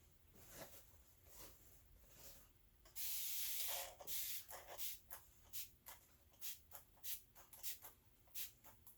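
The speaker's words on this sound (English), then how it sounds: "Absolutely love our spray bottle." A spray bottle of distilled water lets out a long hissing burst, then a run of quick, short squirts in an uneven rhythm, close by with no talking.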